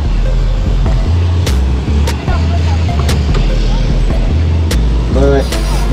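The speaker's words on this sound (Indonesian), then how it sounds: "KMS Double Decker melewati kota Solo dari Pariaman tujuan" KMS double-decker intercity bus passing through a town on its Padang–Jakarta route, a loud low engine drone that swells and pulses with gear changes, mixed with traffic noise and a brief horn-like tone near the end.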